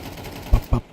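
AK rifle gunfire in a first-person shooter game played on Linux, heard as two or three sharp, close shots in quick succession against a low background hum.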